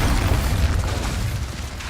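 An Incendio fire spell is cast in Hogwarts Legacy: a loud, close burst with a deep, rumbling boom that slowly fades over two seconds.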